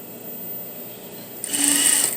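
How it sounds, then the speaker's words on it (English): A sewing machine stitches around a puff sleeve on a flat surface, a brief close whirring burst that starts after a quiet pause and runs to the end, with no talking. "And then sew right over the original stitch here, about a 1/2 inch or so, and then clip your threads."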